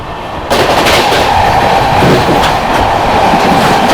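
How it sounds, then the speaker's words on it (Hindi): Howrah–Jodhpur Superfast Express passing on the railway line through Khurja Junction without stopping while overtaking the Gomti Express; a loud, steady roar and rumble of wheels on rails fills the whole stretch, close by. "ये Howrah Jodhpur superfast express, skipping Khurja junction and overtaking Gomti express"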